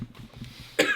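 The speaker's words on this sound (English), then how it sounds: "Khumbu cough." A single sharp cough from a hiker in the Khumbu region near Mount Everest, close and brief after a moment of quiet breathing.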